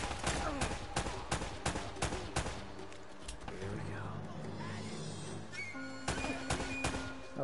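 Gunfire and grenade blasts in the video game Uncharted arrive as rapid bursts of sharp shots and thuds, fairly faint, with someone talking over the fighting throughout.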